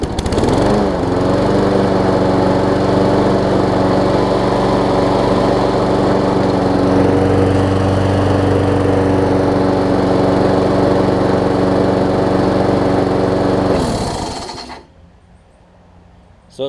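A self-propelled MTD push mower engine runs loud and close in a steady, throbbing drone for about fourteen seconds, then cuts off and winds down into near silence.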